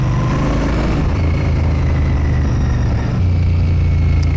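A Royal Enfield Bear motorcycle engine runs steadily, a deep continuous throb with a dense low rumble and a slight rise in level near the end, loud and close with no voices.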